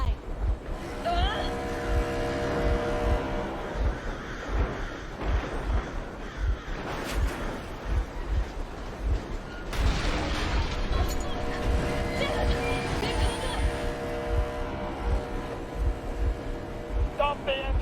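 A vehicle engine runs steadily in Metro Exodus, giving a continuous, rhythmically pulsing rumble with a droning hum throughout.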